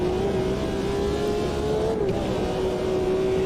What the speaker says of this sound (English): M1 Pro car wins on the noise levels.